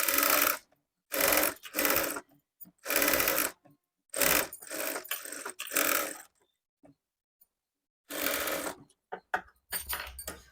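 Sewing machine stitching a lining blouse, joining the fabric from the shoulder, running in short bursts of rapid whirring separated by brief pauses and light handling clicks.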